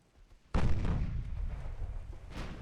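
A 12-inch naval gun salvo in the Ultimate Admiral Dreadnoughts battleship game: one sudden heavy boom followed by a long rumbling roar that lingers and swells slightly near the end, with no voices.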